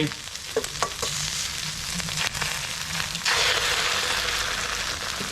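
Eggs sizzling and frying in a hot wok while duck noodles are being cooked, with a steady, close crackling hiss and occasional spatula scrapes, no voices.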